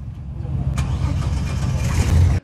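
A 1957 Chevrolet classic car's engine runs steadily with a low rumble throughout, swelling slightly toward the end before cutting off abruptly.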